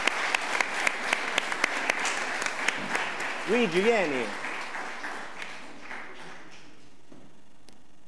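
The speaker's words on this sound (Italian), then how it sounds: "Un applauso per Luigi Giona." Applause from an audience at a university engineering department's tenth-anniversary celebration, honoring an award winner: a dense, steady wash of clapping that a man briefly calls out over midway, before the clapping trails off into quiet room tone.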